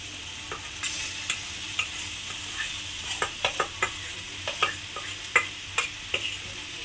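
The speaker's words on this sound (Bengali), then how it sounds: "এঁচড়টাকে খুব ভালোভাবে মশলার সঙ্গে মিশিয়ে নেব" Young jackfruit is stirred into frying spices in a pan: a steady low sizzle broken by repeated sharp scrapes and clinks of the spoon against the pan. No one speaks.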